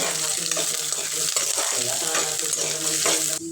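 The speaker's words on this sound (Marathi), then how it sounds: "त्यात बारीक केलेला कांदा कांदा चांगला परतून" Finely chopped onion sautéing in hot oil for a potato curry, giving a steady loud sizzle with scraping stir strokes throughout and no voices.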